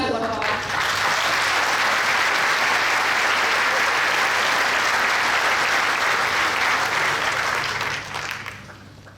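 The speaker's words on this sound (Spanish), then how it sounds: "Un fuerte aplauso, por favor." Dense, sustained applause fills a union meeting hall at a wage-council defense gathering, loud and steady for about eight seconds before tapering off at the end.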